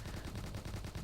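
Turrets in the Road Defense Outsiders game demo firing in a steady rapid stream, a dense, continuous rattle of gunfire with rhythmic pulses and no talking.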